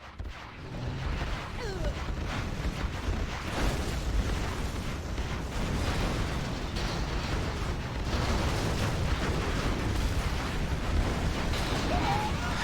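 Scud Storm missile strikes in Command & Conquer Zero Hour erupt into a long, loud wash of rumbling explosions and bursts. The roar runs continuously for over twelve seconds under busy battle noise.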